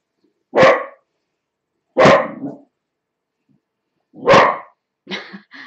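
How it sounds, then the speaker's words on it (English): A dog barks in four loud, separate bursts with pauses between them, the last one softer and broken up, heard close by with no other sounds. "I'm going to go and see what he's barking at."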